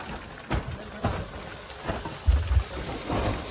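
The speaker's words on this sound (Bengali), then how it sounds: "বৃষ্টি নেমে গেছে বন্ধুরা, বৃষ্টি নেমে গেছে।" Rain coming down during a fishing trip far from home, a steady hiss of falling rain with occasional low rumbling thuds, fairly close.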